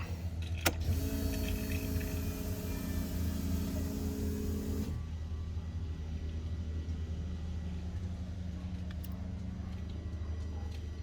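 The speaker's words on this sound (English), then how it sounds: "Let's make sure this thing fires up, I guess. All right, cold start." A tuned car making about 620 wheel horsepower, with new Supertec ignition coil stalks and a PRP trigger kit, cold-starts with a brief whirring crank and then settles into a low, steady rumbling idle, close by with no talking.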